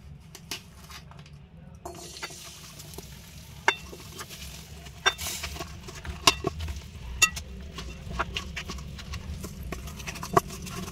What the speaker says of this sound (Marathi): यात आपण आता 2 छोटे चमचे तूप घालणार आहोत आणि मग गुळाचा पाक बनवणार आहोत